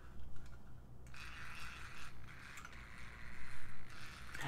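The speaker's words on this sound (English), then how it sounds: "I'm just showing you that it is indeed a motor." A hand crank generator driven as a motor by a battery gives off a faint mechanical whir and rattle, with gear-like ticks and soft thumps rising and falling.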